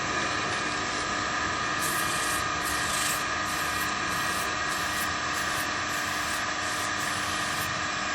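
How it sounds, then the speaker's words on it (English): A wooden turned piece on the lathe has its outer edge and front corner sanded with 240 and 400 grit sandpaper, producing a loud, continuous, even rushing hiss throughout, close and alone. "we're going to sand this outside edge here and around this front corner"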